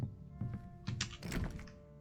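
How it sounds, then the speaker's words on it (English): A locked door being tried in the game Whispering Willows: a few soft, dull thunks and rattles in quick succession, quiet and close, with no voice over them. "Door's locked."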